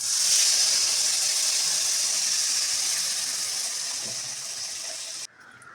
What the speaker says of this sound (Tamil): புளி தண்ணி ஆட் பண்ணிக்கலாம்